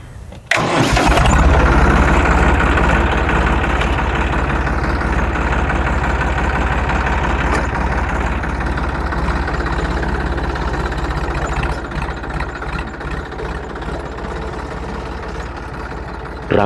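A tractor engine cranks over and catches, then settles into a loud, close, steady rumbling idle that holds with little change.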